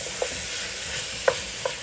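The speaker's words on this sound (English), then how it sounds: "We just want to sweat out those mushrooms a little bit" Mushrooms stir-frying in a pan with stock about to be added: a steady, close sizzling hiss with a few soft stirring knocks, no voices.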